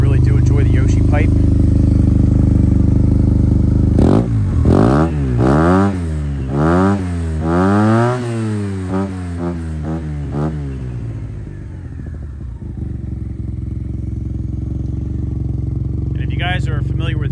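A 2009 Yamaha TMax 500 twin-cylinder maxi scooter with a Yoshimura exhaust revs up loud and close, several rising-and-falling throttle blips climbing in pitch before easing back to a steady idle rumble.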